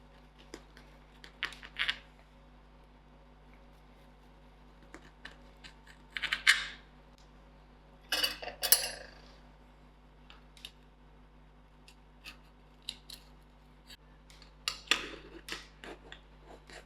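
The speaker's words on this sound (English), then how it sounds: "So I'm going to cut a nice piece." A knife cuts a piece of cake on a plate at home, giving several short, quiet scraping and tapping bursts separated by near silence.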